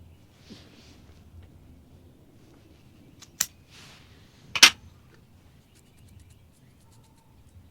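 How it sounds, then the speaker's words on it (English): A cutter snips a Zino Nicaragua cigar in two short, sharp clicks, close and fairly quiet against a still room. "I'm going to go ahead and cut it."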